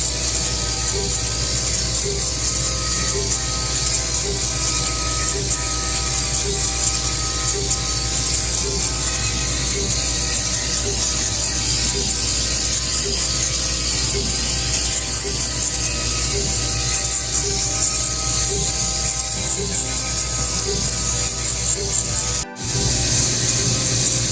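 A machine engraves a picture into wood with a loud, continuous mechanical grinding and whirring, a steady rhythmic ticking running underneath, and a brief abrupt stop near the end before it resumes.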